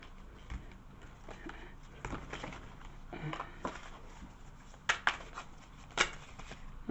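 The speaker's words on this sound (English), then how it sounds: "Spirit's asking me to cut the deck." Tarot cards being cut and handled, with soft papery riffles and a few sharper snaps near the end, quiet and close, with faint background voice murmur.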